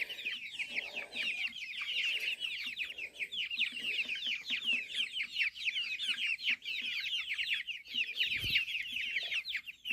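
Backyard chickens cluck and chatter continuously, a dense overlapping chorus of short calls close by, with a single dull thump partway through and no speech.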